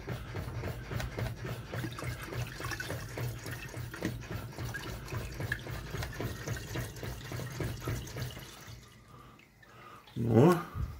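Water gushes and splashes from a hand pump worked quickly, a steady rhythmic flow heard close up for most of the stretch, with a louder splash near the end and people talking over it.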